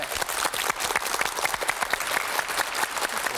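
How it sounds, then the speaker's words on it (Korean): A studio audience at a 1995 KBS late-night music talk show bursts into loud, dense applause, sustained at close range throughout. "뜨거운 박수 부탁합니다."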